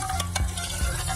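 Golden-brown onions fry with ginger garlic paste in a pan, a steady loud sizzle and crackle broken by scraping stirring strokes, with no voices.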